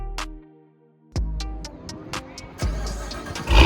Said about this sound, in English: senior Cadillac engineer Brandon Vivian showing the lovely Valerie how to give us a good show by revving that supercharged V8.